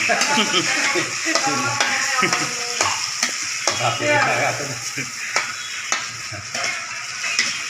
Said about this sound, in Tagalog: So, gisa. At nilagyan na po ng isang latang sardinas.